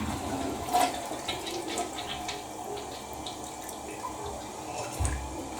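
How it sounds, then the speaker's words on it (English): Water trickling and gurgling slowly down a clogged toilet drain, faint and close with scattered drips and a couple of small splashes, no talking. "let's see if we can get more water to go down the drain"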